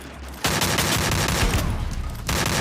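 Rapid bursts of automatic gunfire ring out in the Free Fire battle royale game, a dense, loud rattle of shots that runs almost continuously for about two seconds after a brief quiet start.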